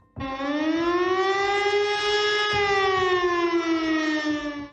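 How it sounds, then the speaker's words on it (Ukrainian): A loud air raid siren in Zaporizhzhia wails steadily for several seconds at night, one long sustained tone that slowly shifts in pitch and then cuts off. "Ніч жителів Запоріжжя будить сигнал повітряної тривоги."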